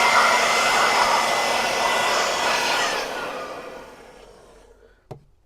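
A DeWalt DCV100 cordless blower runs at high speed with a loud, steady broadband rush that holds for about three seconds, then fades as the motor winds down, leaving near silence broken by a couple of brief handling knocks.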